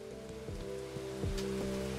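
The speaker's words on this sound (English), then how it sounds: "Ooh, it's raining." Steady rainfall in the Bugsnax video game, a continuous soft hiss of falling drops over a low, sustained game music drone, with no voices.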